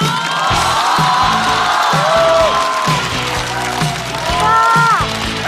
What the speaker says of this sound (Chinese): 掌声欢迎海波。